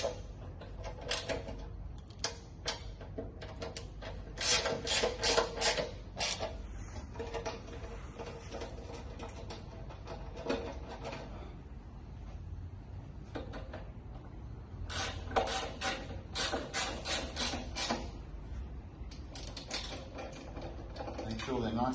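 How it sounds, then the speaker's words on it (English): Ratchet tightening the bolts on a kit, heard as bursts of quick, dry mechanical clicks that start and stop in uneven runs, close to the listener over a low background hum. "And you can tighten up all of these bolts."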